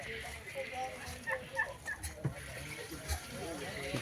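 Chicken-like farm birds that mimic human voices give soft, scattered clucks and short calls at a moderate distance, while a voice sounds faintly in the background.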